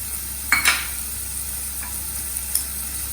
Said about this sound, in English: Now see, the paneer is getting a little bit brownish, goldenish.